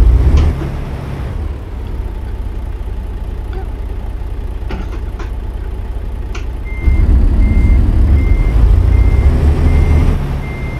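A truck hauling a trailer backs up in American Truck Simulator, its reversing alarm beeping in a steady evenly spaced rhythm over a loud droning diesel idle that swells partway through.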